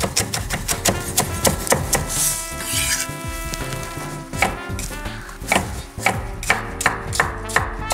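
A knife rapidly and finely chops fennel and onion on a cutting board for a salad, producing a fast, steady run of crisp close taps with a brief pause midway.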